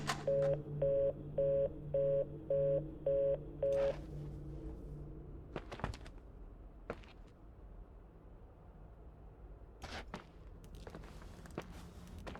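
A cell phone in the video game The Suicide of Rachel Foster plays six evenly spaced dialing beeps in quick succession, followed by soft footsteps and a few scattered knocks in a quiet room.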